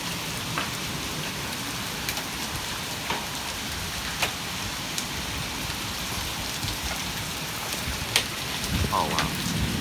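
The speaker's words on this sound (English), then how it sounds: "Look at this hail. It's hitting hard on the ground." Penny-size hail hitting cars and the ground in a severe storm with 40 mph wind, a dense steady hiss of impacts with sharper cracks scattered throughout, loud and close.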